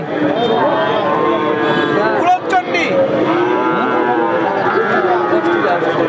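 Heifer calves at a cattle market, a loud close bovine moo stretched over several seconds, with a second lowing call after a brief break and market noise underneath.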